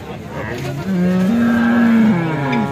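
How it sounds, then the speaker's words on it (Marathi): A pure HF breed dairy cow moos loudly and close at a cattle market, one long drawn-out low call lasting about two seconds. "एचएफ जातीची प्युअर गाई आहे।"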